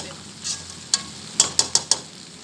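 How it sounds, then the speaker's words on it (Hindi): Chicken macaroni with cabbage cooks in a pan over low heat, giving a soft steady sizzle with a few sharp stirring clinks and scrapes close by. "अब हम इसे 1 से 2 मिनट तक पकाएंगे मैकरोनी डाल के हल्की आंच पे।"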